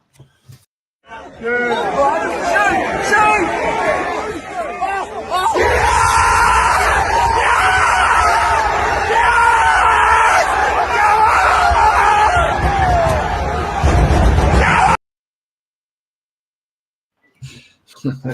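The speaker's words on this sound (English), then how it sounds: "this is Torquay fans at Truro urging their striker to have a dig" Torquay football fans at an away match at Truro, a crowd roaring and yelling as a goal is scored, loud sustained shouting that swells and then cuts off abruptly.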